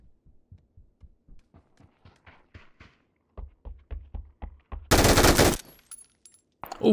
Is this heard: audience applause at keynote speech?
no